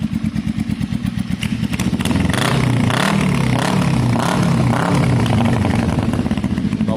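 A loud Kawasaki cafe racer motorcycle idles with a lumpy, throbbing exhaust, then revs up and holds a raw, rumbling roar with bursts of throttle, close by.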